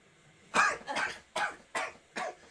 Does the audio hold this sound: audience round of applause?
no